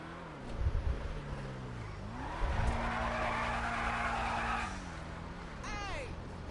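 Car engine and tyres in GTA Online, driving up to a Buzzard helicopter: a steady motor drone with pitch shifts as it slows and turns, a brief skid-like squeal near the end.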